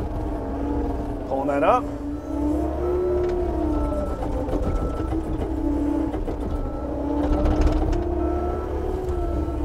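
A skid steer loader engine drones steadily while the machine works and backs up, with rising and falling whines from the hydraulics and someone speaking briefly over it.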